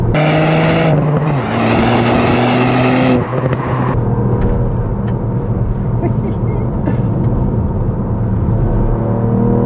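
A 2021 Ford Puma ST sporty SUV engine drones loudly at close range, rising through gears with shifts and a gruff exhaust note as it drives on.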